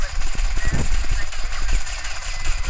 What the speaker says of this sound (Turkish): Aa delillere bak helikopter getirmişler.